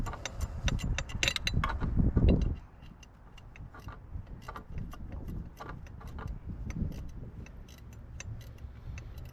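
A wrench working a stuck bolt on the turbo inlet pipe of a B9 Audi S4/S5, dense close metallic clicking and ratcheting, louder at first, then lighter irregular ticks and clinks.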